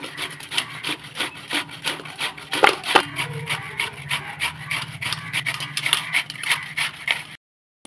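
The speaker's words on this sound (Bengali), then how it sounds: "তো কচুটাকে যেরকম করে এটা দিয়ে গ্রেট করে নিতে হবে পুরো।" Taro root being grated on a hand grater, a close, rhythmic rasping rub repeated in quick strokes for several seconds before stopping abruptly.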